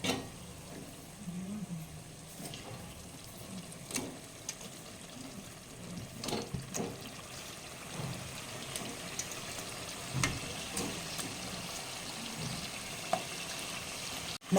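Fish pieces go into a pan of simmering tamarind gravy, a faint low bubbling sizzle broken by a few soft, dull plops and light clunks, quiet and without speech.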